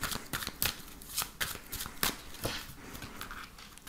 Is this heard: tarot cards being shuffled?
yes